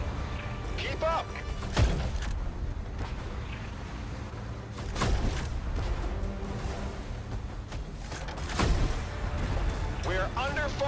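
Booming artillery fire in the Tank Force game around an SK-105 tank: several heavy thumps and blasts recur every few seconds over a rumbling battle bed, with voices shouting through it.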